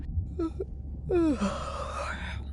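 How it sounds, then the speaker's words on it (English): A person's yawn: a brief breathy onset, then a drawn-out, rising and falling voiced exhale that trails into a soft sigh, close and alone over a low background hum. "Was that a yawn?"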